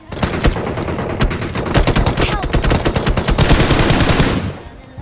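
Rapid automatic gunfire in a shooting video game, dense bursts of loud shots coming from all sides while a player is pinned inside a house, continuous for several seconds before cutting off.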